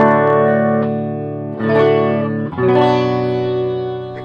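An electric guitar plays sustained chords on the clean channel of a PRS HDRX 20 amp with reverb, three strums that ring out fully and loudly, with no talking.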